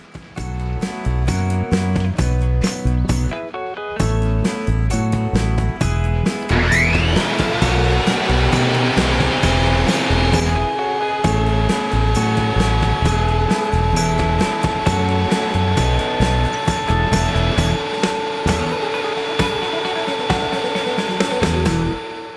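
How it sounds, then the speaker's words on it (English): A thickness planer feeds hardwood boards in a shop, giving a loud, continuous motor whine with a rising high tone as the cutter bites, steady throughout with no talking. "I haven't run hardwood through this planer before, so we're going to go very gently and just work our way up to it"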